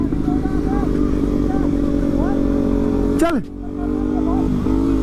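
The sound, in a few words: Kawasaki ZX10R motorcycle engine revving before a race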